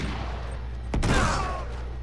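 A grenade blast in the Uncharted 3 video game: one sudden, loud, full-bodied boom midway through, with a rumbling tail that fades over the next second above a steady low background.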